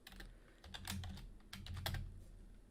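Code is typed on a computer keyboard, soft rapid key clicks in two short flurries with a brief gap, faint and close, with no speech.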